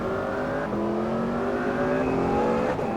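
A McLaren race car on the Waterford Hills circuit, engine droning and rising in pitch as it accelerates out of a corner, a loud, continuous near whine with shifting harmonics.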